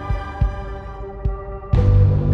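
A heartbeat sound effect thumps steadily at a close, even pace, each beat a low muffled pulse, and partway through a loud sustained hum swells in beneath the rhythm.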